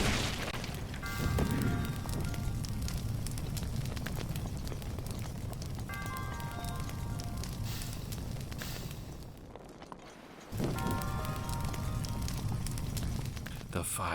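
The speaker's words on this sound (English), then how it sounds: "The fire is so pretty, I kinda wanna let it spread" Fire burns through wooden boxes in The Legend of Zelda: Breath of the Wild, a dense, continuous roar of crackling flames with a brief dip before it surges back loud.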